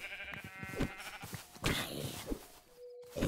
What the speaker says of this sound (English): I see some sheep